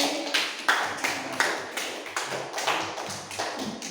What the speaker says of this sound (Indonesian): Kasih tepuk tangan buat Mbak Febri